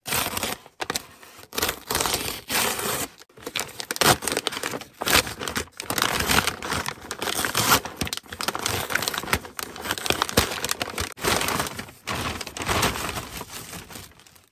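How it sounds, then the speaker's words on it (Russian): A parcel being unpacked by hand, close and loud crinkling and rustling of plastic packaging that continues almost nonstop with brief gaps. "Очередная распаковка."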